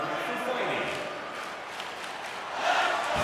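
A hockey arena crowd in the NHL 26 video game roars steadily after an on-ice fight, a dense wash of distant cheering that swells toward the end.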